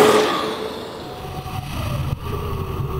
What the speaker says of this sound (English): you can hear the chain and the electric motor whirring behind you